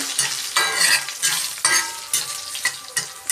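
Sliced onions for a pickle fry in a pan with a dense hiss, broken by regular scraping strokes of a spoon stirring them roughly twice a second, near and fairly loud.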